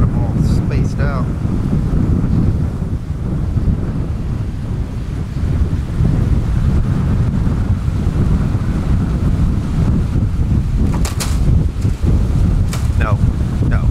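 Strong storm wind buffeting a microphone outdoors near a horse, a continuous loud roaring rumble with gusting swells and a few faint higher squeaks.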